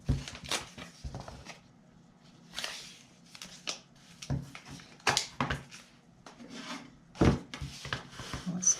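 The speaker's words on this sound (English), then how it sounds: "I'm just going to take some tape, place some tape on the underside" Tape being pressed and rubbed onto the underside of a paper craft keepsake box makes short, close rasping and rubbing sounds in irregular bursts with quiet gaps between them.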